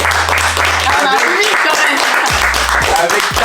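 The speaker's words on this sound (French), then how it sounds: "On l'applaudit quand même." Brief burst of clapping from a studio audience for the last-placed contestant on a shopping competition show, with voices talking over it.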